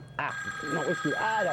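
An old telephone bell rings insistently in a 1984 French children's television scene, sounding close while someone speaks over it in French.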